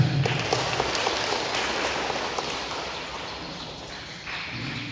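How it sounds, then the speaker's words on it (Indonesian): A congregation applauds during a Catholic wedding mass in St Yosef parish church, Reweng: a steady, hissing wash of many hands that slowly fades toward the end. "Tepuk tangan dulu."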